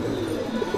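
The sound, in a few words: Madrasi pigeons cooing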